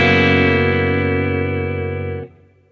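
Electric guitar chord through a Ventilator Leslie pedal on slow rotor, with delay, sustaining loud and steady with gentle wavering shimmer for about two seconds before cutting off into a faint tail.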